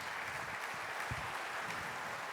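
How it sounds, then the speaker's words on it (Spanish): Applause on a podcast set, a short steady wash of clapping at moderate level, continuous and unbroken for a couple of seconds. "Merece el aplauso."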